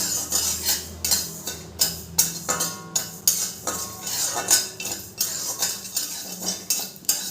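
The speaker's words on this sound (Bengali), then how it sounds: "গোবিন্দভোগ চালটা নেড়ে চেড়ে লাল করে ভাজা হয়ে গেছে" Gobindobhog rice being stirred and dry-fried in a wok, with a spatula scraping and clinking against the metal in a steady, repeated rhythm, close and fairly loud, with no voices.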